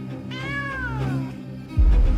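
A single drawn-out cat meow rising and falling, fairly close, followed by a sudden low rumbling thud.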